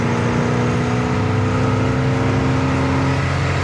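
A 1969 Chevrolet Chevelle SS engine drones steadily and loudly from inside the car driving down the road, with a low rumbling tone holding throughout.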